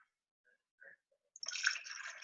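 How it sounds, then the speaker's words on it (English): Water poured from a measuring cup into a cup, a soft continuous splashing and trickle that begins after a quiet pause and keeps going to the end, close and fairly faint. "I'm going to measure 1 cup of water again, and we're going to put it into our 3rd cup"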